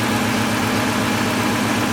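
The 4.4-liter engine of a 1998 BMW 540i idles with a misfire, a steady low rumble with a faint irregular stumble in its pulse, close and continuous with no talk.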